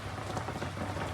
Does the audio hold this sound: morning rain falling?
yes